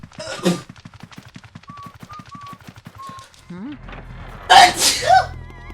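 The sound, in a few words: sneeze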